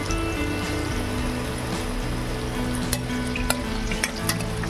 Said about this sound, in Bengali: এভাবে সবগুলো আমি হালকা হালকা করে ভেজে নেব